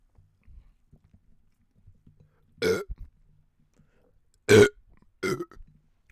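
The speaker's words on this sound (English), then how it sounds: "Burp mic." Three loud, rumbling burps up close, with near-silence between them and a few faint rustles.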